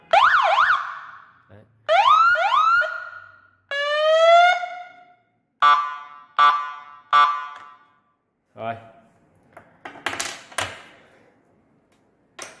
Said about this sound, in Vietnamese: còi hú báo động này, để các bạn tham khảo.